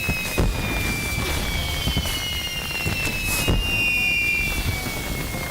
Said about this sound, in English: let's see how many fireworks you guys can get off.